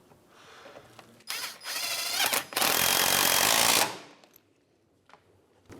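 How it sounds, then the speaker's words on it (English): A power tool runs in bursts while 10mm bolts go back into the engine splash shield of a 2011-2015 Hyundai Elantra, giving a loud close buzzing rattle for about two and a half seconds, then quiet handling noises. "And now we can start reinstalling our 10mm bolts."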